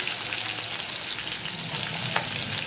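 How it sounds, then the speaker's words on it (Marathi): Chopped onion, curry leaves and green chillies fry in hot oil in a pan for rava idli sambar, a dense, steady crackling sizzle that stays loud and close throughout. "आणि बारीक चिरलेला कांदा घालूया।"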